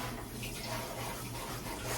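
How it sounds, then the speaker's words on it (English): Running tap water pours steadily over hands being washed in a kitchen while baking peanut butter cookies, a continuous soft splashing hiss with no breaks. "now I'm gonna wash my hands off again"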